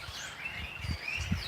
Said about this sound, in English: I think they're mostly sparrows and like really loud birds.